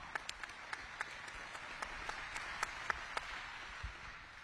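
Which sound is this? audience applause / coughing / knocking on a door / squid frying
audience applause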